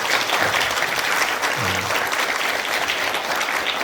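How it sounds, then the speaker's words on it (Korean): Audience applause fills a university campus worship service, a dense, steady wash of clapping that carries through the whole stretch with a brief voice rising underneath partway through. "한 번 더 감사의 박수 한번 드리겠습니다."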